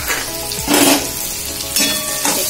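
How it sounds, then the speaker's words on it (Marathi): Onion frying in an iron kadhai, a steady close sizzle that swells louder twice as the pieces are stirred, with faint scraping underneath and no talking. "बघा मस्तपैकी हे कांदा वाजतोय"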